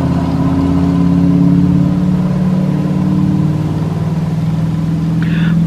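A car outside a home runs with a loud, steady engine drone, holding a low hum that swells slightly and fades without a break.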